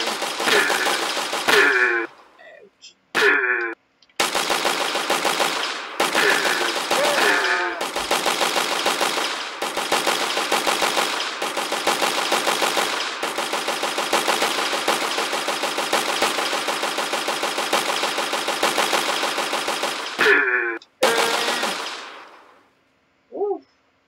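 Rapid automatic gunfire in a prototype video game about hunting mannequins, loud sustained bursts of rattling shots broken by short pauses and a few single cracks, with no talk.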